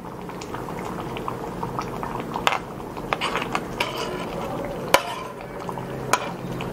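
Paneer gravy with green chilli bubbles at a steady boil in a pan, and the low bubbling is broken now and then by sharp clicks and knocks of a utensil.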